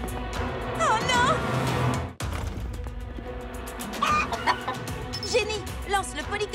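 Chickens cluck and squawk in a busy, noisy animated cartoon scene with other background sounds and a brief break partway through.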